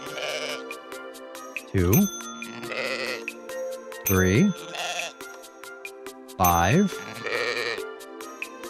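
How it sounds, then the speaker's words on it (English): Cartoonish sheep bleats in the video game Welcome, Dear Human, three loud wavering baas spaced a few seconds apart over a steady game tone, while a person counts aloud. "I don't think this is how you're supposed to count sheep when you're trying to..."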